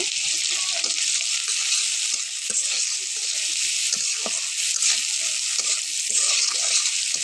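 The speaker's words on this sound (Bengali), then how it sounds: "একটু অল্প পরিমাণে হলুদ লবণ দিয়ে মাছটা ভেজে নেব" Shrimp frying in a wok with onion, turmeric and salt, a constant bright sizzle with scattered small pops and stirring clicks, moderately close, with no voices.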